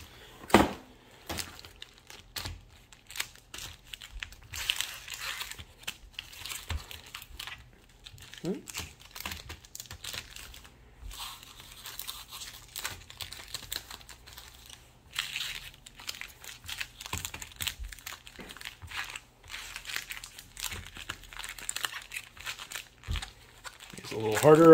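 Magic: The Gathering Ultimate Masters booster packs being shuffled by hand, a run of dry crinkling foil-wrapper rustles and soft card flicks in irregular bursts across the whole stretch, close to the microphone, with no voices over it.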